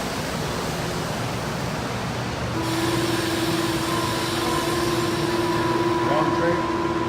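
Mexico City Metro train pulling away, a steady broadband rush and rumble that grows slightly louder partway through as a sustained electric whine with a clear tonal hum sets in and holds.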